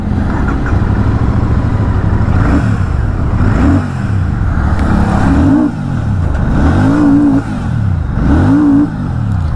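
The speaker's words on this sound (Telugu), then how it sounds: "ఎగ్జాస్ట్ సౌండ్ విన్నారు కదా" Royal Enfield Classic 650 twin-cylinder motorcycle, 2025 model, blipping its exhaust in a series of loud, close revs that rise and fall about five times over a steady idle.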